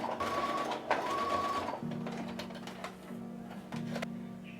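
A sewing machine stitching velvet garment pieces for a tailored suit, its motor whirring in steady runs broken by short pauses, fairly quiet and close, with no talking.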